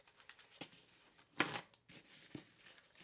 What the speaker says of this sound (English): then you shuffle these cards,